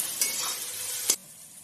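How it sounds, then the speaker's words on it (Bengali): Onions fry in a pan of hot oil, a brief bright sizzle with a faint clink that cuts off abruptly after about a second. "পেঁয়াজটা ভাজা হোক।"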